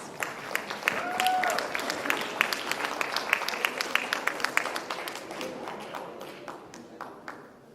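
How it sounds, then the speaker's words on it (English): A crowd at a school board meeting breaks into sustained applause, dense clapping that starts loud and slowly thins out toward the end. "Let's give them a round of applause."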